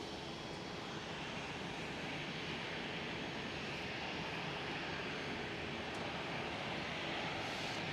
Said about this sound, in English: A320 starting up on the bottom right corner.